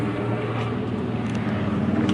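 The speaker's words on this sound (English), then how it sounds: "a loud ass car coming" A loud car drives past outside a Dollar General store, a steady engine roar filling the moment, close and continuous with no voices over it.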